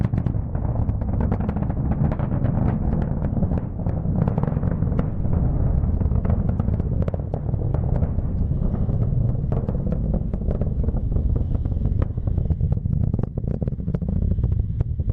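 A SpaceX Falcon 9 launching Starlink satellites gives off a continuous deep, crackling rumble, loud and sustained throughout with sharp pops and distortion, heard alone without voices.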